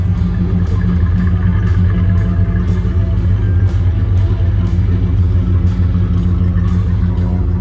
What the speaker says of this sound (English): So the car's just got a mellow, quiet sound to it.